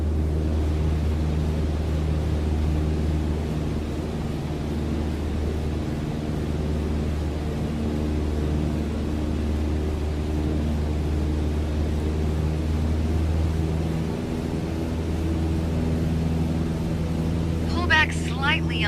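An aircraft engine at full throttle in Microsoft Flight Simulator 2020 makes a steady, loud, droning hum with layered tones that holds evenly throughout, ending with a brief higher chirp near the end.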